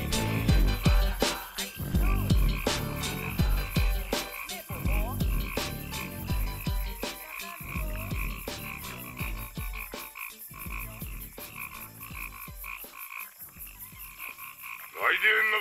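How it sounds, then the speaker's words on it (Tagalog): Frogs croak repeatedly in a Filipino rap track, their rough pulsing calls set against a rhythmic music beat and backing sounds. "naninilig na palaka."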